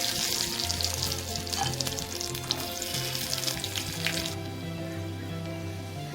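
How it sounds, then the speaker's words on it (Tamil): Crackling sizzle of raisins and cashews frying in hot ghee in a pan for carrot kheer, steady and close, fading after a few seconds, with soft background music throughout. "பேன்ல நெய் ஊற்றிக்கலாம். இப்போ திராட்சை முந்திரி போட்டுக்கலாம்."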